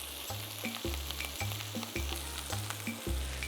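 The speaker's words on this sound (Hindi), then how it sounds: "इसको थोड़ा सा हल्का सा करेंगे सौते" Red chili and basil sauté in a hot pan, giving a steady close sizzle with repeated stirring scrapes and a low tonal hum underneath.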